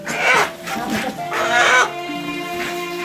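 Chickens bought from a woman at a rural market or farm cluck and squawk in a few loud, close bursts, with some background murmur.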